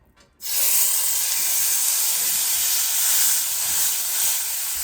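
A steak drizzled with olive oil hits a hot, slightly too-small pan and bursts into a loud, sustained, close sizzle after a brief quiet start.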